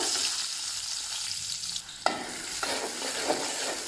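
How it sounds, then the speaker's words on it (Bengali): Onions dropped into hot oil in a pot for a beef and potato dish: a steady close frying sizzle, then a sharp clack of a utensil and louder crackling as stirring begins, with no voices. "তেলটা গরম হয়ে গিয়েছে, এখন পেঁয়াজগুলো দিয়ে দিব।"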